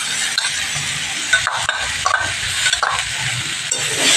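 Spice paste with cumin and chili powder sizzling as it is stirred into frying cauliflower and potato in a pan, loud and close, with intermittent scraping strokes and a steady hiss.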